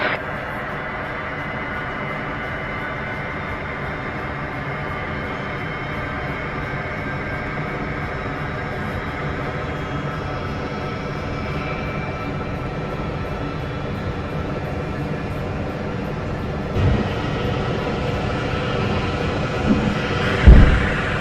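A British Airways airliner taking off from runway 08 at Jacksonville International Airport, a steady broad engine roar heard from inside, swelling slightly toward the end.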